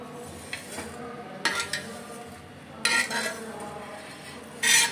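Dried shrimp (javla) is scooped from a pan onto a plate, with several distinct metallic scrapes and clinks of a spoon against cookware over a quiet background, the last clatter loudest.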